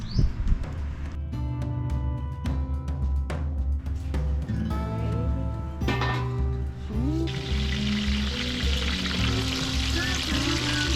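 Food for poutine fries in a pan, a steady crackling sizzle that swells into a bright hiss toward the end, mixed with clinks and scattered kitchen noises.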